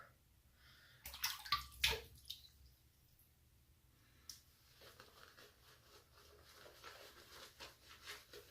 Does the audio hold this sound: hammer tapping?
no